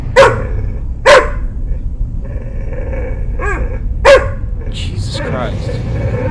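A dog named Noodle barks in three sharp, loud bursts spaced about a second or more apart, with a low growl and a yip in between, over a steady background murmur while a person talks.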